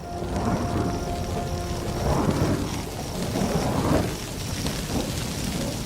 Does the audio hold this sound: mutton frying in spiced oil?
no